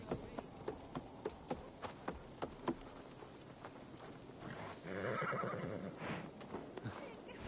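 A horse whinnies in Assassin's Creed Valhalla over steady hoof clip-clops, with a light background hum throughout and voices murmuring faintly.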